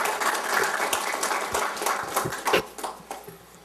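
Scattered audience applause at a telecom industry workshop as a Huawei CTO is invited to the stage, moderately loud with irregular individual claps standing out from the crowd.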